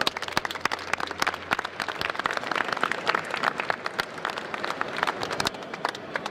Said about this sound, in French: Laurence Navarro, qu'on applaudit très fort, s'il vous plaît.